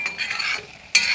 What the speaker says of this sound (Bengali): তো এইভাবে আমি নাড়াচাড়া করে জল দিয়ে দেব